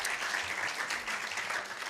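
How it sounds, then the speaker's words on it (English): Audience at a climate justice economics conference applauding a speaker, steady dense clapping that holds level for the whole stretch with no voices over it. "Encourage him with a hand clap."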